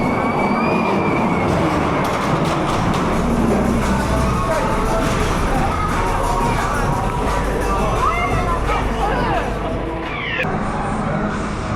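Ghost Train dark ride at Blackpool Pleasure Beach, with a continuous rumbling, rattling car moving along the track, broad clattering noise and faint crowd babble throughout, a brief high effect sound near the end.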